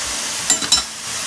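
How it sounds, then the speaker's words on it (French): Seitan and mushrooms sizzle in a hot pan as Kikkoman soy sauce hits it, a brief loud hiss bursting up twice over a steady frying hiss, with no voices. "On va déglacer avec une cuillère à soupe de sauce soja Kikkoman"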